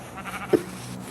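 Sheep bleating in a video game: a single short bleat rising briefly above a soft, steady game background, with no speech.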